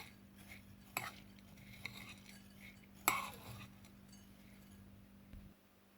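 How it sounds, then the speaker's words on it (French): A spoon stirring sugar in a kitchen while making coconut milk sticky rice: a few faint, light clinks against the container over a low steady hum. "Je mélange le sucre."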